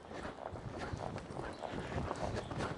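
Horse hooves striking the ground while a rider canters a mare one-handed, giving a soft, repeated rhythmic thudding of footfalls at a steady pace, faint and without speech.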